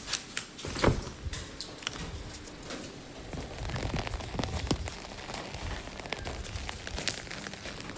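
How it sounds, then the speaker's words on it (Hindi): Steady rain falls on surfaces and an umbrella during a continuous downpour, a dense close patter with a few sharper drops and faint bird cooing behind it. "बारिश चल रही है अब भी लगातार।"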